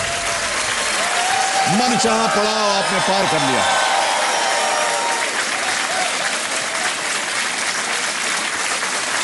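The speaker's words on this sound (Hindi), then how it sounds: "तालियां बजती रहे।" Loud, sustained studio audience applause on the Kaun Banega Crorepati quiz show, with a host talking over it and a brief musical sting near the start.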